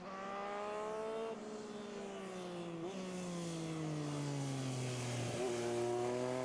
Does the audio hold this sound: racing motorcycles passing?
yes